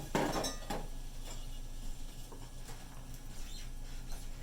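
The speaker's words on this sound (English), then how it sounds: "we're just going to gently stir that around with a spoon or a straw" A spoon clinks against a glass while stirring a blueberry-mint Collins topped with soda water, giving a few light taps and rattles over a faint steady fizz.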